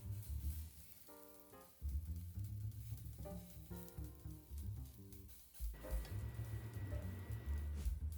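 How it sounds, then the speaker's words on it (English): Lentil balls sizzle in hot oil in a pan, a loud, steady crackle broken by brief clinks and scrapes as they are turned. "I'm simply frying up these lentil balls in some hot oil on a pan, turning them as we go"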